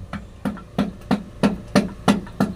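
Repeated hammer blows knocking a piston out of a rusty Mitsubishi 6D22 engine block, eight evenly spaced metallic thuds with ringing decay, close and fairly loud, no talk.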